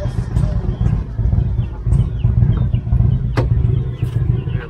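A truck, a Mitsubishi Evo Stage 5 X85 running nearby, rumbles along the road with a loud, steady low engine drone, road clatter and faint chirps and rattles over it, with no talking.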